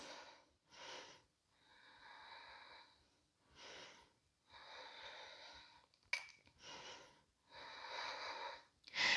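Slow, deep breathing held through a back-strengthening yoga pose, with three long breath cycles of drawn inhales and rushing exhales, close and steady, with no talking.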